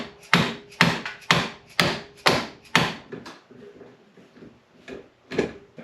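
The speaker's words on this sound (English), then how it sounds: "you take a hammer, bang on that thing there" A manual impact driver struck repeatedly with a hammer to loosen stuck screws: six loud, sharp, evenly spaced blows up close, followed by a few softer taps and light rattling.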